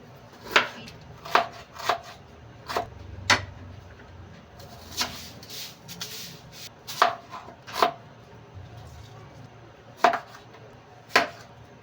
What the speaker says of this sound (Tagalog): Hiwain ko na din tong kamatis at saka sibuyas and of course yung ginger natin